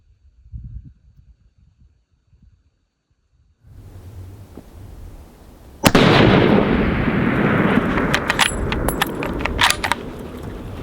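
Rifle shot at an elk on a hunt, a single sharp loud report cracking out after a quiet stretch, followed by a rolling echoing boom and rustling handling noise nearby.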